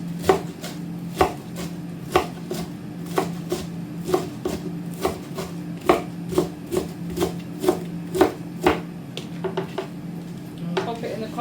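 A knife chops vegetables for a side salad on a cutting board, giving sharp, evenly spaced thuds over a steady low hum, with a voice talking briefly in the background.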